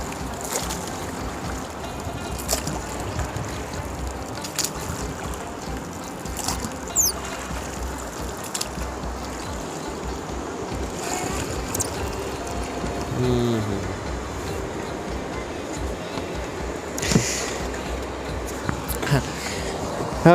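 A boat on the Kunar River in Kunar, Afghanistan, a low steady rumble of motor and moving water with wind, broken by a few sharp knocks and a faint passing bird call.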